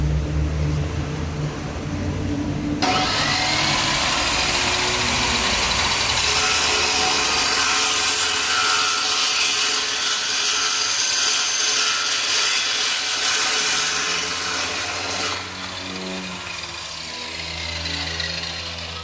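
A 2-inch galvanized steel pipe being cut for a test with a hydraulic pipe notcher: a loud grinding, whirring cut begins after a motor hum, holds steady for about twelve seconds, then stops and leaves the machine idling.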